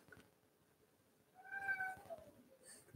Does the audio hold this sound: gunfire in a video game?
no